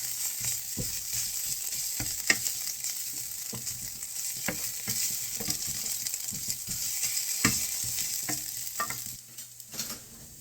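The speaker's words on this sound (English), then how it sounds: "we're going to give this a nice stir and mix that in" Tomato paste and ingredients for a creamy heirloom tomato and basil soup get stirred in a hot pot, a continuous low sizzle with repeated scraping and knocking of the spoon, close and steady without talk.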